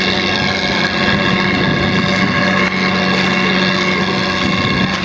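A large ferry engine on the Padma River drones steadily and loudly throughout, a constant low mechanical hum with no talk over it.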